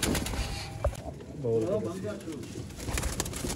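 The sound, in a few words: pigeons cooing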